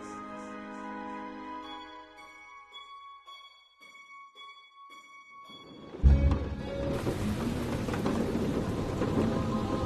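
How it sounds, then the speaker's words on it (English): A storm in the video game A Fisherman's Tale: a sustained musical tone fades out, then a loud thunder crack breaks and heavy rain rushes steadily, close and enveloping, with no speech. "Outside, the storm raged"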